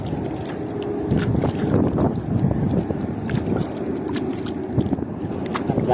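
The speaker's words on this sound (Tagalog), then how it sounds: "So binanatan tayo ng hangin. Kaya ayan ang tubig maalon." Strong wind buffets a small fishing boat on rough, choppy water, a loud blustery rush with sloshing and thumping waves close by, no voices.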